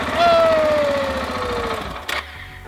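A motorcycle engine cranks and turns over on the starter after a stuck starter relay is fixed, a steady mechanical churn with a faint whine, ending in a short clatter, close by.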